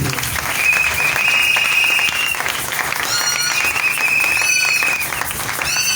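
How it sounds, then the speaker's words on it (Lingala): Church congregation during a sermon gives sustained applause, loud and steady throughout, with a few whistles and cheers cutting through the clapping. "Est-ce que quelqu'un peut acclamer pour la parole de Dieu?"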